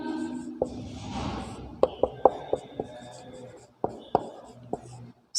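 Pen or chalk writing out a Sanskrit grammar example, a series of short, close taps and scratchy strokes in irregular rhythm, with soft breathy noise and quiet murmuring.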